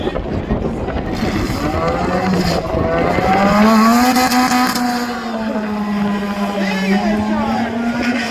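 A Pontiac and a Tesla drag race, with an engine's rising whine carrying across the run at a distance, while spectators talk and shout nearby.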